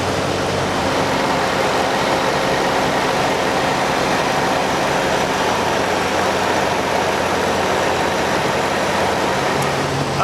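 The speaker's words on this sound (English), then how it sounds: "Now we have the CTS-V on the dyno." A Cadillac CTS-V with a ported blower and upgraded intake runs on a chassis dyno, giving a steady, loud, dense engine drone that holds evenly for the whole stretch with no talk.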